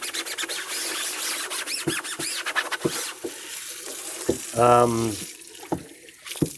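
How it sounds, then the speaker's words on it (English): A strong water spray rinses a screen-printing screen in a sink, a steady hissing wash that runs close and loud throughout, with a few knocks and brief speech. "you can see that just the force of this water is entirely cleaning that screen."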